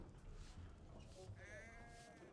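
Sheep bleating in the video game Assassin's Creed III, a single quavering bleat at moderate distance over faint ambient game sound.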